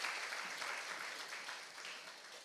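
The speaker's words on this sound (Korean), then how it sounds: "오늘 귀한 말씀 선포해 주신 우리 유성경 목사님께 감사의 박수 한번 보도록 하겠습니다." A church youth group applauding together after a service, a dense continuous patter of many hands at moderate distance, tapering slightly toward the end, with no talk in the clip.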